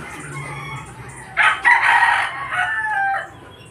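A rooster crows loudly nearby, a drawn-out call, while hens cluck softly underneath.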